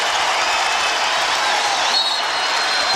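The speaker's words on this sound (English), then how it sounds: "This crowd on their feet." Basketball arena crowd on its feet cheering and applauding at a tense moment late in a close NBA game between the Toronto Raptors and Los Angeles Clippers, a dense, steady roar with no breaks.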